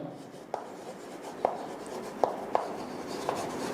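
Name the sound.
writing a definition by hand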